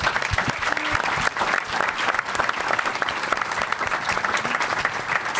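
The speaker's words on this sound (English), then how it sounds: "Give a big, big applause for Maya." Loud, dense audience applause at an animation studio presentation, a continuous wash of clapping from a close crowd with a few faint vocal cheers mixed in.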